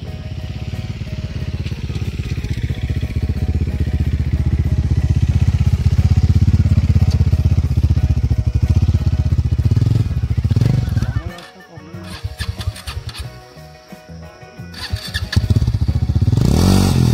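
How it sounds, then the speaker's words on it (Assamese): A motorcycle's engine drones loudly and close on an outdoor road at Sitakund, then drops away as it goes past and fades, before another loud engine swell rises at the end; people talk quietly underneath. "বাইকখন গৈ লওক"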